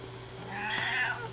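Indoor cat giving a single drawn-out meow, moderately close and fairly soft against a faint steady hum.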